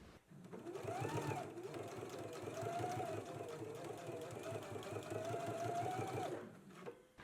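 A sewing machine stitches the fly of a jumpsuit, running in one long, steady burst that stops briefly near the start and ends at about seven seconds.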